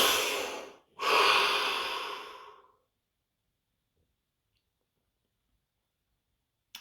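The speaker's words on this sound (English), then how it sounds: "Take a deep breath." A slow, deep breath: a soft, close inhale followed by a longer, fading exhale, then quiet silence broken by one faint click near the end.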